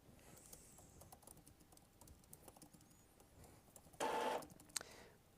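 An Epson ET-2400 EcoTank inkjet printer priming its ink pump, a soft patter of mechanical ticks that gives way to a loud, steady whirring burst of a second or so near the end.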